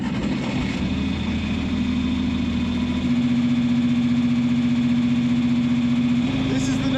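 A John Deere 4020 Powershift tractor engine runs steadily close by, a low droning idle with a firm harmonic hum that shifts pitch slightly partway through, with a voice talking over it.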